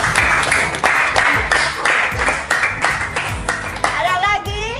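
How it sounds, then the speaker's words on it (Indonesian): Children in a classroom clapping their hands in a rhythmic, evenly spaced pattern of loud claps, close by, with a voice briefly audible near the end. "berikan tepuk tangan"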